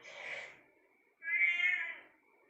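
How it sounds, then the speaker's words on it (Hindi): Two cat meows, each drawn out and fairly loud and close, separated by a brief pause, heard during a late-night Ouija board session with no talk over them. "भाई बिल्ली का साउंड कहाँ से है?"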